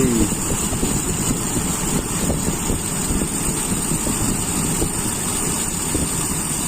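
A carbureted Toyota Kijang engine runs during carburetor tuning, giving a steady, close, droning hum with little change in pitch. Some wind-like rumble sits underneath.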